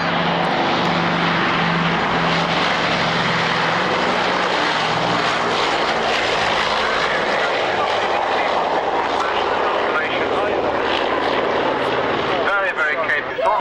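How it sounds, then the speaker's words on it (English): A piston airliner with turbo compound engines roars on takeoff at an airshow, a loud, sustained propeller drone that stays strong throughout while a commentator speaks over it. "The nose already up, and she's up in a few feet. Bags of power from the right turbo compound there."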